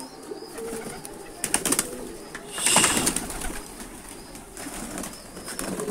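Pigeons coo nearby in hot-weather surroundings, with soft repeated calls and a few rustling bursts that sound like shifting or flapping wings. No one speaks.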